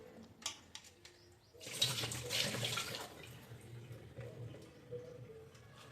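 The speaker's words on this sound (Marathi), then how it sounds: "हे बघा 4 ते 5 पाण्याने मी चांगल्यापैकी धुवून घेतलंय याला" Tap water gushes for about a second and a half while fish are washed at a home sink, a bright splashing burst set between quieter clinks and handling noises, with faint cooing pigeons nearby.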